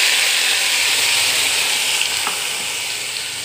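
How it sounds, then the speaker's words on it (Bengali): Spice masala for paneer curry sizzles and fries steadily in a pan, a close, loud, continuous hiss with a faint scrape of stirring near the middle. "এবার মশলাটা একটু ভালো করে কষিয়ে নেব"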